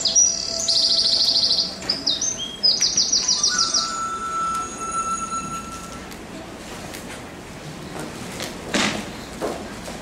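A small bird chirping and singing, rapid trilled bursts and a few sustained whistled notes close by at first, then sparse quieter chirps.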